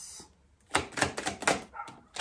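Several sharp, separate barks from a dog in the background, a cluster of quick bursts with short gaps between them and one more bark at the end, set against a quiet room.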